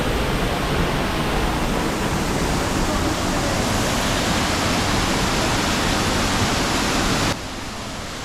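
Mankayam waterfall, one tier of a three-tier cascade, roars from up close as a dense, steady broadband rush of falling water, loud and unbroken, dropping slightly quieter at the very end.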